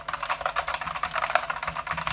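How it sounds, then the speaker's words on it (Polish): Outemu Red linear mechanical keyboard switches clatter under fast, continuous typing, a dense run of soft plastic clicks and thocks close to the mic with no speech. "czyli po prostu wciskamy i mamy, to są OTEMu Red."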